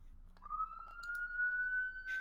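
A police siren wails once as a single rising tone, faint and distant, swelling slowly over a quiet room background.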